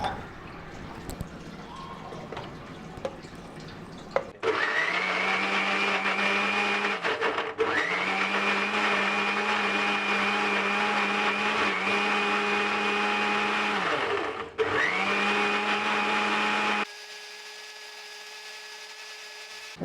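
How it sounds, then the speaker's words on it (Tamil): A blender grinds sambal paste with a cup of water for skipjack tuna, running loud and steady in long bursts with a whining motor tone that dips briefly between runs, no talk over it. "இப்போ நம்ம போய் பிளெண்ட் பண்ண போகிறோம்"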